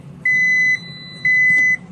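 A Frigidaire appliance showing an F11 error code sounds two long, steady electronic beeps, evenly spaced and loud, over a low hum.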